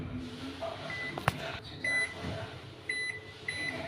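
Microwave-style convection oven sounding several short electronic beeps while a three-minute, 140 °C convection bake for frozen pizza is keyed in, with a soft hum and a sharp click between the tones.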